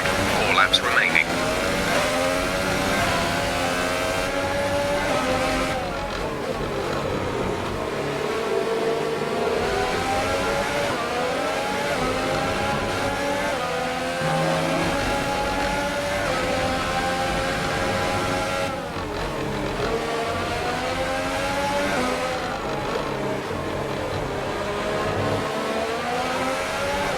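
Formula 1 race car engine in the F1 2018 video game at the Hungaroring in Budapest, with a worn internal combustion engine, drones steadily with shifting revs through the whole stretch, loud and close, with speech partly over it.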